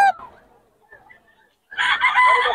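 At a chicken market, a rooster lets out a loud, close crow near the end after a brief cluck at the start and a quiet gap, with faint murmurs in between.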